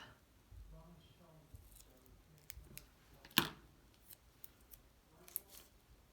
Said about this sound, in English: That is too big, so I'm just going to cut it in half.